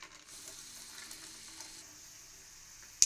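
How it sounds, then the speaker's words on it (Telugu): Peanuts fry in a little hot oil in a kadai, giving a soft, continuous sizzle with quiet stirring and a brief sharp clink at the end. "ఆయిల్ లైట్గా హీట్ అయిన తర్వాత కొంచెం పల్లీలను వేసుకుని ఫ్రై చేసుకోవాలి."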